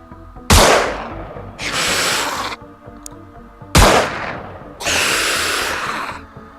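Two loud gunshots ring out in the video game Terror Mission, each a sharp blast followed by a longer rumbling tail, spaced about three seconds apart with no talking.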